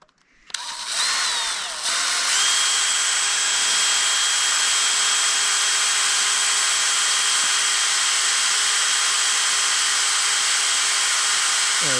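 A drill bit bores out the end of a Petzl Long Life bolt pin deep in the hole of a climbing rebolting job, a steady, loud, high-pitched whine that spins up in the first couple of seconds and then runs continuously without talk.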